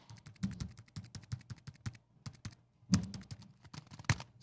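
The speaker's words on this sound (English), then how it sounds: "It's got a nice click through on the keyboard." Keys on a Samsung Chromebook Pro (2018) laptop keyboard are typed in quick, crisp clicking bursts, with a short pause midway and a couple of louder taps near the end, close and alone with no talking.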